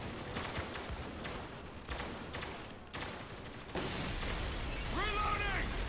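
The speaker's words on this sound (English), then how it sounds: "we're taking heavy fire" Heavy gunfire in the Spec Ops: The Line video game, dense rapid bursts and volleys rattling continuously at close range, with a loud blast near the end followed by shouted voices.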